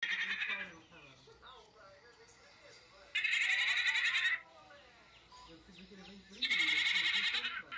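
A goat bleating loudly at close range, three long wavering cries spaced a few seconds apart, with quieter rustling and bleat-like murmurs between them.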